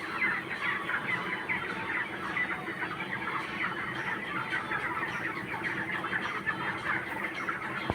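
Chickens cluck continuously at moderate volume, a busy, steady chatter of several birds with no voices over it.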